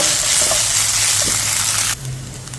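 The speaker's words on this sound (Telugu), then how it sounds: "1/2 table spoon ginger garlic paste వేసి పచ్చి వాసన వెళ్ళేంత వరకు ఫ్రై చేసుకోవాలి" Ginger garlic paste fries with onions in a pan for pepper chicken, making a loud, close, continuous sizzle that drops suddenly to a softer hiss near the end. No talking.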